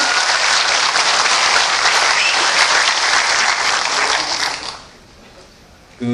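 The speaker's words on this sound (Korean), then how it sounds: "여러분 다시 한 번 큰 박수 부탁드리겠습니다." Audience applause at a Korean policy press conference, a steady, dense clapping that holds loud for several seconds before thinning out and fading, with a brief burst at the very end.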